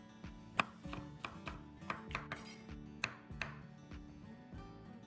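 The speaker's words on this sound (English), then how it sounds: "we're just gonna cut up the peppers" Knife chopping orange and yellow bell peppers into chunks on a cutting board, a steady series of crisp, close taps and thuds with no talking.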